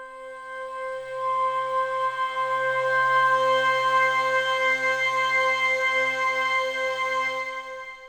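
An Alchemy synth pad in Logic Pro, run fully wet through a long reverb, holds sustained tonal notes that swell and slowly decay. It is smooth and steady, with no voices.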